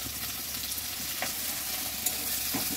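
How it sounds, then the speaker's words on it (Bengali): Sliced onions sizzle in hot oil seasoned with dried red chilli and bay leaf, a close, steady crackling fry with occasional stirring scrapes and no talking. "ভাজা ভাজা করে নিচ্ছে পেঁয়াজটা সুন্দর করে"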